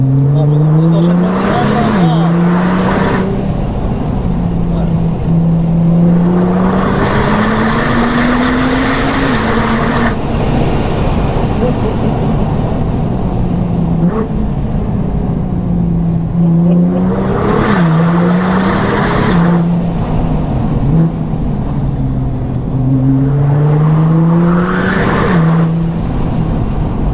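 A Nissan GT-R Track Edition on a race track, its engine climbing through gears in repeated rising sweeps, dropping under hard braking, then pulling again, loud and close throughout.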